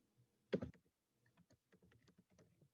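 Someone types an address on a computer keyboard: one loud thump, then a sparse run of light, close keystroke clicks in an uneven rhythm.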